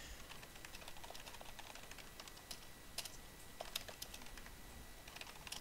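Fast typing on a computer keyboard to send a Skype message, a quiet stream of light, irregular key clicks with a few sharper taps, heard alone.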